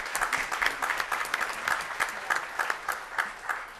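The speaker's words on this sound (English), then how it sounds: "could you please give them a certainly well-deserved round of applause?" An audience at a city proclamation meeting applauds in a steady, dense patter of many hands, moderately loud and alone.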